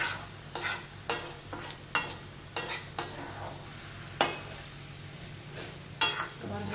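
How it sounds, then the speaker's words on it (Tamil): Garlic pickle is stirred and scraped in a pan, a spoon striking and dragging across the metal in about a dozen sharp, uneven knocks over a soft sizzling background. "அப்படியே அப்படியே கிளறி கிளறி கிளறி இப்படி சுரண்டி சுரண்டி கிளறி விடணும்"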